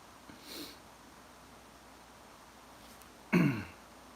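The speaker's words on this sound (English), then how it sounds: "I don't know why I got this little cough with you guys." A person coughs and clears their throat with a brief soft rasp early on, then one louder, sharper throat-clearing burst near the end. No speech, and little else in between.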